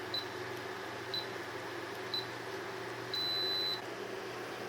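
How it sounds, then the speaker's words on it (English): Insignia 24-inch electric induction cooktop beeping with the wrong type of pan on it: three short evenly spaced beeps followed by a longer tone, over a steady low hum. "the cooker will start beeping after a few seconds"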